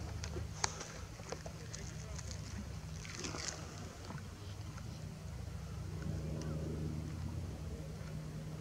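A boat's engine runs as a steady low rumble beneath wind and water noise, continuous and moderately distant, with people talking faintly over it.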